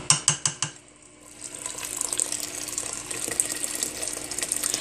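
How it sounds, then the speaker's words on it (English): A few quick metallic clinks of a pot, then a steady stream of water pours in over rice and yellow lentils, running and gushing without pause. "We're going to add water enough to cover this."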